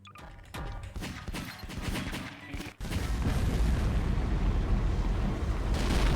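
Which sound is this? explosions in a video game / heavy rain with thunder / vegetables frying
explosions in a video game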